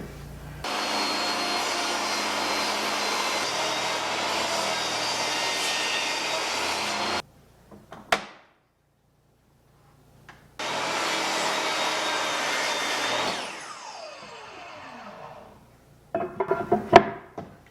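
Power saw cutting a cedar board for a fireplace mantle: a loud continuous whine for several seconds, an abrupt stop and a short clunk, silence, then a second long cut that winds down and ends in light knocking.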